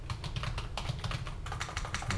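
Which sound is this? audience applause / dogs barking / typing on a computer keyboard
typing on a computer keyboard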